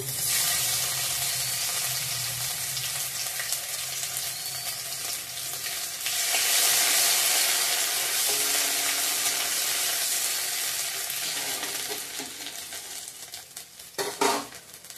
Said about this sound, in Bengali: ভালো করে ভেজে নেব ফোড়নটা। থেতো করা আদাটা দিয়ে দিলাম।